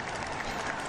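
Crowd of spectators lining a road at the 2018 UCI Road World Championships in Bergen, a dense steady wash of applause and cheering with no break, fairly loud throughout.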